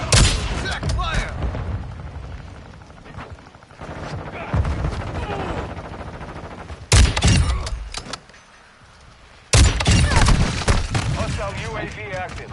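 Heavy gunfire in the video game Modern Warfare 2, dense bursts of rapid shots and booming impacts that come in loud waves with short lulls between, mixed with shouted speech.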